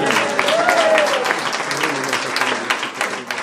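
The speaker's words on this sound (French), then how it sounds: "On applaudit le Seigneur, gloire à Dieu." A church congregation at a revival seminar applauds loudly and steadily, a dense wash of clapping with voices mixed in throughout.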